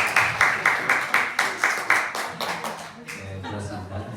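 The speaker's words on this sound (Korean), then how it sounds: "수고해주신 박수에" A congregation claps in a steady unison rhythm at a Sunday church service, thanking volunteers for their decorating work; the beat then loosens and fades as a voice begins.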